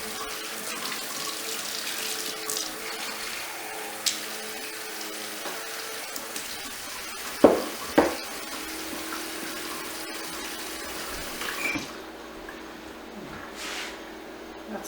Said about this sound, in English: Turn my warm water on.